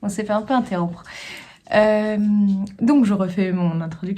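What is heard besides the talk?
No everyday noise stands out behind the speech.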